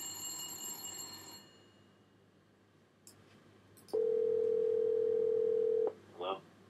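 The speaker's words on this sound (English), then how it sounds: "I'm going to call someone." Steady telephone dial tone hums for about two seconds in a quiet room, cut off abruptly, followed by a couple of short electronic blips; faint talk and a high tone are present at the start.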